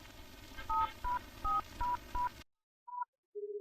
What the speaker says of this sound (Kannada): ಒಂದ್ ಫೋನ್ ಮಾಡ್ಬೇಕು